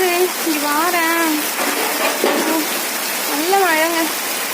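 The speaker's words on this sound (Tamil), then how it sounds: "நல்ல மழைங்க. மாட்டிட்டேன்." Heavy rain pours down in a steady, dense hiss that fills the scene, with a voice talking over it.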